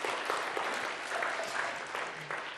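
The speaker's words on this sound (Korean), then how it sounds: "하나님께 기대의 박수 드리겠습니다" A church congregation claps together during a Sunday worship service after a New Year blessing, giving a dense, even round of applause that fills the room for the whole stretch with no talking over it.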